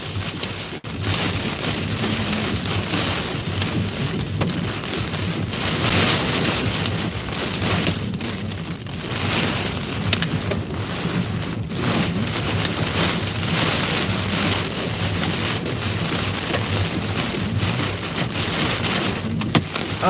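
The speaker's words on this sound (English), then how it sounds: "Oh, the hail is getting larger." Hail and rain pound a storm-chasing car during a severe Mississippi thunderstorm with intense wind: a dense, steady roar of close impacts, broken by sharper clattering hits, with no voices.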